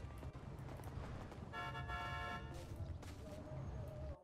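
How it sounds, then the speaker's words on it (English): Car horn honking in a Windy City roleplay video game session, a sustained toot with steady harmonic tone over a busy game soundscape, fairly loud and close. "Who's that honking?"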